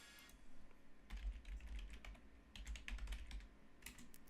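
Rapid, uneven bursts of keystrokes on a computer keyboard while logging in, close and fairly quiet, with short pauses between clusters of taps.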